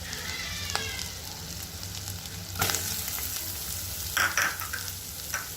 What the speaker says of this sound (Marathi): तर लसूण गोल्डन ब्राऊन होईपर्यंत आपण परतून घेऊया त्याच्यानंतर आता मी याच्यात कांदा घालते आहे